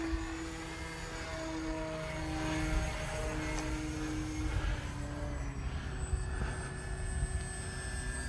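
A small model airplane's engine whines and drones overhead, its pitch shifting as it passes, steady and moderately distant under faint outdoor ambience.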